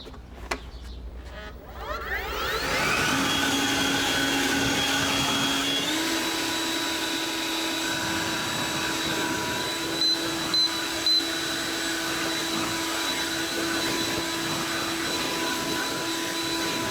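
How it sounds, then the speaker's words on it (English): A leaf blower spins up after a couple of seconds and then roars steadily and loudly at close range, its pitch shifting slightly midway, while a few faint higher tones sound briefly over it. "this is the only way I can simulate wind with my leaf blower."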